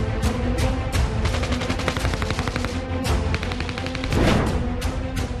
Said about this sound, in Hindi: कुछ लड़ाकों को गोला बारूद बरसाते हुए देखा गया।